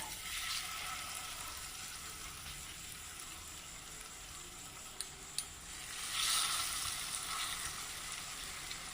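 Ripe jackfruit pods dipped in batter and dropped into hot oil to fry as a tea-time snack: a steady, close crackling sizzle with a couple of sharp clicks and a brief louder surge as a piece goes in.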